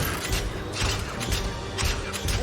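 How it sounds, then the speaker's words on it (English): Creaking playground swings in a cartoon scene give a rhythmic, grinding metallic squeak that rises and falls about every half second, steady and fairly loud with no talk. "That noise is coming from the swings."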